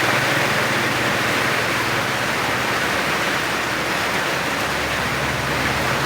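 Rain falls steadily in a continuous, loud, even hiss that fills the whole stretch with no pauses and no voices.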